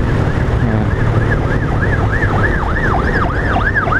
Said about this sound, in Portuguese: Vai a ambulância.